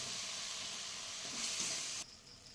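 Spices for a prawn and kochur loti curry sizzle steadily in a hot pan, a loud broadband frying hiss that swells briefly near the end before dropping abruptly to a quieter simmer.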